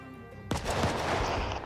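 A loud burst of gunfire in the zombie survival game Project Zomboid erupts after a quiet moment, a rapid, dense volley that stays sustained until the end.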